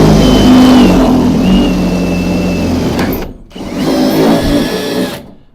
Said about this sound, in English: these are Harbor Freight Hercules black oxide drill bits